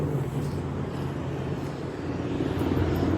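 A steady low rumble of a military helicopter overhead in Los Angeles, continuous and fairly loud, with no distinct voices.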